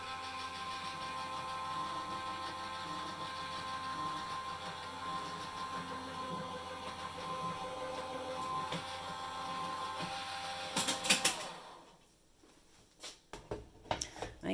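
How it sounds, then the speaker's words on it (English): An electric die cutting machine runs with a steady mechanical hum and whir for about eleven seconds, then a few clunks as it stops and the room falls quieter. "So I'm using the electric die cutting machine"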